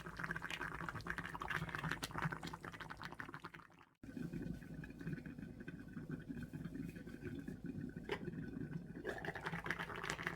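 Quiet bubbling and simmering of plum juice in a pot of stuffed squash blossoms, continuous with a brief dropout partway through, no voices.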